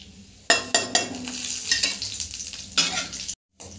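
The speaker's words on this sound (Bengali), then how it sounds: "এবার আমি তেলে দিয়ে দেবো কিছু গরম মশলা" Whole garam masala and cumin crackle in hot oil, with bursts of sizzling and spatter as a spoon stirs them, loud and near, ending in a short silent gap.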